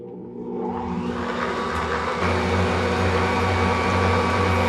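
An electric mixer beats cake batter made with buttermilk in a bowl, a steady motor whir that swells in the first second and then holds at an even level, with no talking.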